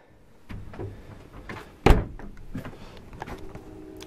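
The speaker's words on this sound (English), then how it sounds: "Pocket wood door closes off the rest of the unit." A wooden door slides along its track and bumps shut with one solid thud, surrounded by faint shuffling and handling noises.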